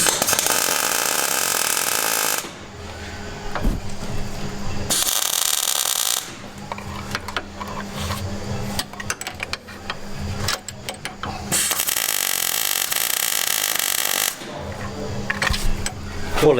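Welding tack welds onto an LS engine mount for a turbo Mustang build brings bursts of loud, harsh crackling buzz, separated by quieter stretches of clanks and shop noise.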